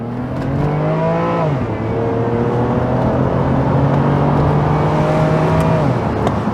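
A BMW engine pulls hard and loud up close, its tone climbing and dropping at each gear shift, with a sustained drone between two clear shifts and no voices.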